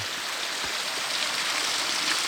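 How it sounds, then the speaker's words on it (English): A small mountain creek trickles and drips across a hiking trail on the Heather Maple Pass Loop, a soft, steady wash of running water heard close by with no voices. "Dripping across the trail."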